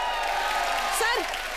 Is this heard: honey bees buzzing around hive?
no